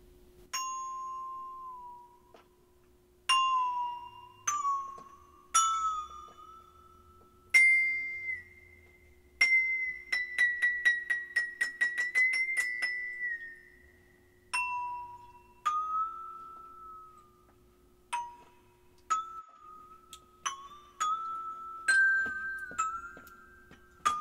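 Metallic ringing tones from a cymbal bowed while dipped in water sound one after another with gliding, bending pitches, then a shimmering trill; clear, close, and without voices.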